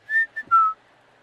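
A person whistles a short, clear tune of three quick notes, close and alone in otherwise quiet surroundings.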